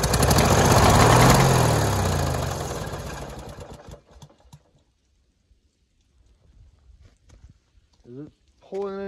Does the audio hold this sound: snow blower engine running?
yes